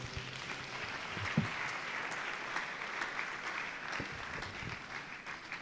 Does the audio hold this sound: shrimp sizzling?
no